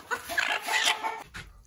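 Rescued production Leghorn hens clucking close by, a cluster of agitated, overlapping squawks and clucks from skittish birds, followed by a brief pause and a single softer cluck.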